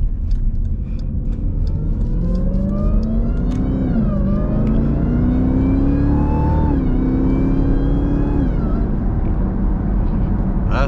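A Jeep Trackhawk accelerates and revs hard, its engine pitch climbing in several rising sweeps with gear changes, loud and close throughout, with voices talking over it.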